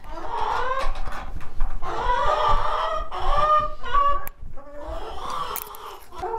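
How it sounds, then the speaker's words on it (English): A backyard coop holds about twenty chickens that cluck and squawk close by and almost without pause, with several birds calling over one another and no talk. "So let me show you where the chickens live."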